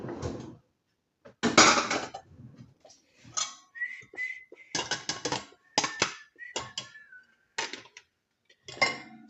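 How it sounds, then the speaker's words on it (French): Dishes clatter and clink in irregular bursts, with ceramic knocks and rattles separated by short pauses, close by and fairly loud. "ranger la vaisselle et faire la vaisselle"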